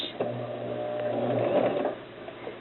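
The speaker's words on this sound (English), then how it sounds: "Now we go and do the standard stitch, standard seam allowance, which is about a 1/2 inch," A sewing machine runs a standard stitch along a zipper seam, one steady mechanical whirring burst of rapid needle strokes lasting about two seconds, close and alone.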